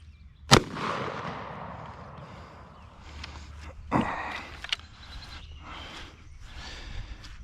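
A Maverick 88 cruiser shotgun fires a single sharp blast at five yards, loud and close, followed by fainter clatter and a few quieter knocks.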